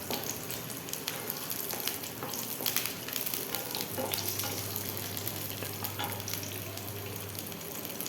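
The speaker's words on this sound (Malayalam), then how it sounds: "ചെറിയുള്ളിയുടെ കൂടെ തന്നെ പുളിയും കൂടി ഇട്ട് കൊടുക്കണം ഇത് രണ്ടും കൂടെ ഒന്നിച്ചിട്ട് വഴറ്റിയെടുക്കണം" Shallots and tamarind sautéing in hot oil for a dried red chilli chutney, a steady close sizzle with stirring scrapes and a low hum running throughout, no voices.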